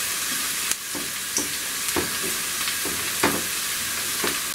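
Steady close-up sizzling of garlic frying in hot oil at the start of a chicken jalfrezi, with occasional soft stirring scrapes and pops, no voices.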